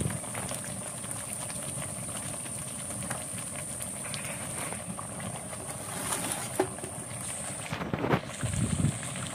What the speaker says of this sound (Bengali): মশলাগুলো কিন্তু আমি সুন্দরভাবে ভেজে নিচ্ছি